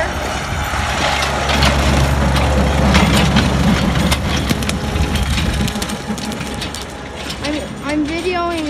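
A 22-horsepower Mahindra tractor with 16 PTO horsepower runs a 4-foot mower out in a field. The engine gives a steady low drone under crunching, whirring cutting noise, while someone talks close by.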